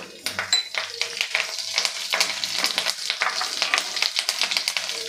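Curry leaves hit hot oil in a pan with a loud, bright sizzle and crackle that spits and pops steadily throughout, with faint stirring underneath.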